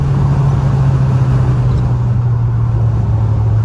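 Continuous low car engine drone with road rumble while driving, steady and loud from inside the vehicle, no talking.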